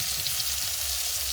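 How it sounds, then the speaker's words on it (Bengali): Potatoes fry in hot oil in a wok, giving a loud, steady, dense sizzle that runs without a break, with no talking. "আমাদের কড়াইতে কিন্তু আলু পড়ে গেল,"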